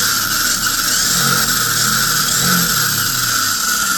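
A Hobao Hyper GT RC car's electric motor spins its wheels off the ground, giving a steady high-pitched whine with a constant buzzing drone, close and loud for the whole stretch.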